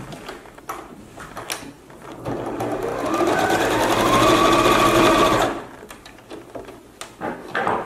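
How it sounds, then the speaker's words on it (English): A sewing machine stitches a final seam joining overlapped fabric ends, running in one steady whirring burst of about two and a half seconds, bracketed by quieter handling clicks and fabric shuffling close by. "the last step is just to sew one more seam right here to connect it all"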